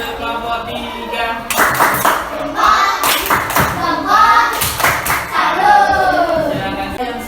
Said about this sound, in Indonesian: Tepuk salut untuk kelompok 3.